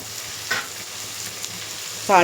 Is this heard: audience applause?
no